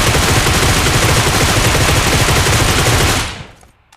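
Groza assault rifle fire in a battle royale shooter, a loud, continuous full-auto burst that runs for about three seconds and then cuts off into quiet, with no voice over it.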